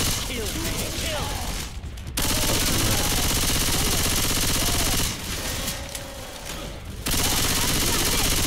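Sustained, loud automatic gunfire from the video game Left 4 Dead 2 roars almost continuously, dipping briefly twice before resuming at full intensity.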